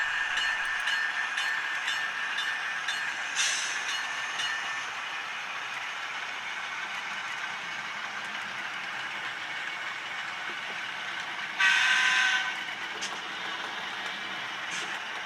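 An Atlas Alco S2 model locomotive runs on a model railroad mainline, making a steady, quiet whirring hum that rises briefly in a few louder bursts.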